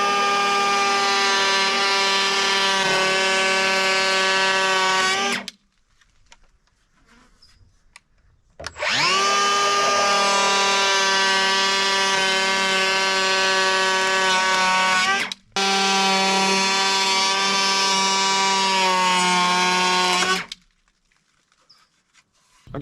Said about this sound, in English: I gotta say, that planer is pretty badass.